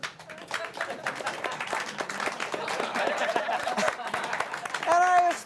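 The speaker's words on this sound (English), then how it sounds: "Clap if you agree." Audience at a stand-up comedy show claps in a dense, steady burst of applause with faint crowd murmur, and a voice briefly speaks near the end.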